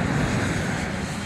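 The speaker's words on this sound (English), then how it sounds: "the badly damaged DC-10 struggles back to the Detroit airport" A badly damaged DC-10 airliner flies with its engines making a steady, loud, broad roar and a low rumble for a short stretch.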